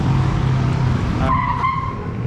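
A car's tires skid sharply in a near crash with a motorbike on a busy Manila road, a short screeching squeal over traffic rumble that cuts off abruptly.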